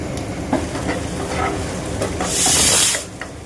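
Chopped ginger, garlic and green chili sizzle in hot oil and sugar in a pan, a steady close crackle with light stirring clinks, swelling into a louder hiss near the end.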